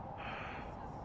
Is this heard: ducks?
no